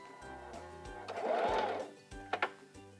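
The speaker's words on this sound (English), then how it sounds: "continue sewing my straight stitch" A Singer Simple 3337 sewing machine running straight stitches: a steady mechanical whirr in short bursts with pauses, close and clear, with a brief clack of the reverse lever.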